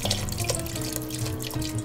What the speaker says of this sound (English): So we're going to cover with a little bit of water.